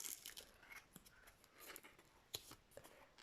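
A small plastic packet being torn open carefully, with soft crinkling and a few short tearing rips at close range and low volume, no talk.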